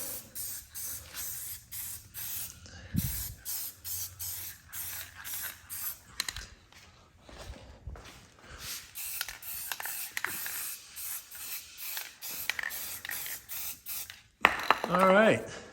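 Aerosol spray paint hissing in repeated short bursts over a custom ram air hood grille insert for a 2016 Cummins truck, with brief rattles of the can between passes and some quiet talk.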